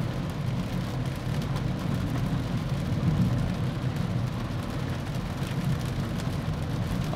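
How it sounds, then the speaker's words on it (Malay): Heavy rain drums steadily on a Proton S70 car, heard from inside the cabin as a dense, continuous wash with a low rumble of the moving vehicle beneath, unbroken throughout. "Hujan sederhana lebat macam ni"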